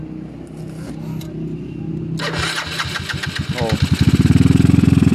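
A motorcycle with a stock oil pump, a starter fault and an added oil cooler is kick-started. Its engine catches after a few turns and settles into a loud, rapid, pulsing idle, with a brief exclamation from a voice.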